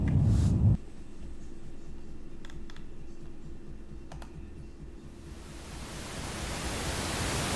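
A steady, even hiss of pink noise fills the whole stretch after a short, louder low-pitched burst at the start, growing brighter and slightly louder toward the end.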